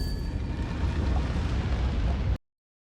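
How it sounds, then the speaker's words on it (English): Minecraft amethyst placing sound: a steady, dense crackling rumble lasting a couple of seconds, loud and continuous, then cutting off abruptly into silence. "And I'll also play the section where amethyst is placed."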